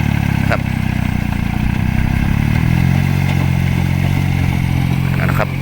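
A Kubota L2002 tractor works a flooded rice paddy, its diesel engine chugging loudly and steadily nearby with a slight pitch change midway and some clatter, while someone talks over it.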